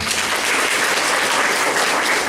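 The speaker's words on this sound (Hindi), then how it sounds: "जोरदार ताली" A big audience at a Safe Shop Direct meeting keeps up loud, sustained clapping, an even wash of many hands with no voices on top.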